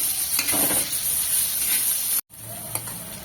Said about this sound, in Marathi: एक सारखं हलवून घ्यायचा आहे म्हणजे कांदा आपला व्यवस्थित असा भाजला जाईल तेलामध्ये